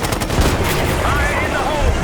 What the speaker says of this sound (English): God damn, we're taking fire!